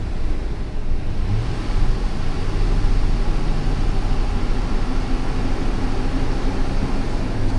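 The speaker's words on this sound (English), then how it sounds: "Let's give it some throttle." Ford 5.4 V8 engine running under throttle after a cam phaser repair, a loud, dense, steady roar that holds constant throughout, close to the engine with no voices.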